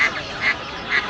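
Ducks and geese at a bird market give three evenly spaced nasal honks over a busy background, close and fairly loud.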